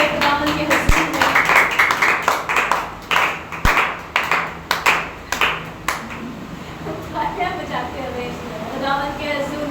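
Congregation clapping hands in uneven bursts during a church worship service, a loud nearby voice speaking over the claps, then the clapping gives way to singing.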